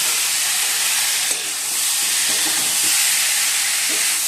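Papaya and potato pieces hit a spiced tomato masala of ginger paste, green chilli, cumin and coriander powder, giving a steady broadband frying hiss with faint stirring clicks throughout.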